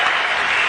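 Crowd applause at a basketball game, a dense burst of clapping heard very briefly and up close.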